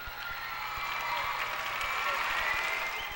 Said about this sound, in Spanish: Un fuerte aplauso para nuestro jurado, María, Fabián